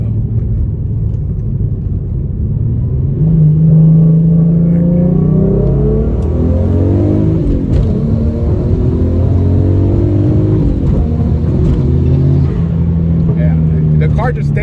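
A TTV6 race car accelerates hard using no-lift shifting, its engine note climbing through the gears with only brief dips at each shift as it stays in boost, loud and close from inside the cabin with a rumbling low end.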